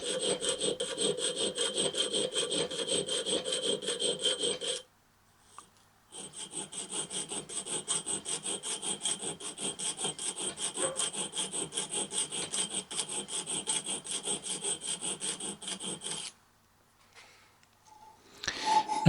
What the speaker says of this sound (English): file down using the triangular file